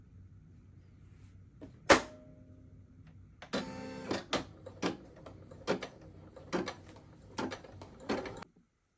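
An embroidery machine stitching an in-the-hoop coaster, a close, dry run of rapid mechanical ticks and clacks in uneven bursts with short pauses, opening with a single louder knock.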